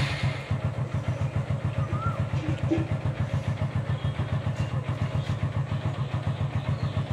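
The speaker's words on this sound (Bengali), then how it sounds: "প্রতিদিনই সকালবেলা উঠে বাইকটা আগে স্টার্ট দেয় শীতের জন্য" A motorcycle engine idles close by on a cold, foggy winter morning as it warms up, its rapid steady thumping pulse continuing unbroken and fairly loud throughout, with no talking.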